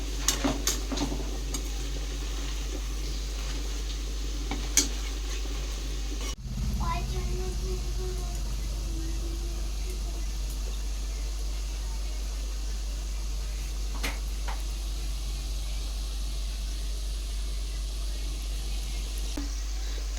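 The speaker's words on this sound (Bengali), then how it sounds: "তো দেখো এই যে বড়াগুলো কিন্তু আমার ভাজা হয়ে গেছে, এবার আমি তেলের থেকে তুলে নেব" Palm fruit fritters (taler bora) frying in hot oil, a steady low sizzle and bubbling that runs throughout, with a few clinks and a brief scrape partway through.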